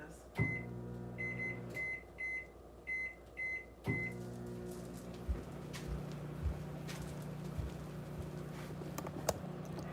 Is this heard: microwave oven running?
yes